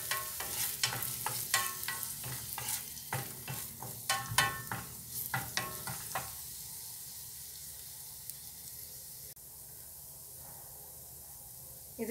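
Garlic, onion and green chili frying in a pan, close rhythmic stirring and scraping over a steady hissing sizzle, the stirring stopping partway to leave the frying hiss alone.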